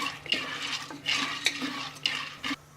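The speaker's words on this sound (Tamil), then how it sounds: "இது வந்து ஒரு 2 நிமிஷத்துக்கு இந்த மாதிரி நம்ம கலந்துட்டே இருக்கணும்" Popcorn ingredients stirred in a pressure cooker pot, with a spoon scraping the metal in three or four sweeping strokes over a light sizzle, fairly close and with no talking.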